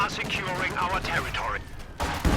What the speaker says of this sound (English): This machine gun's getting taken out by AT gunfire, of all things.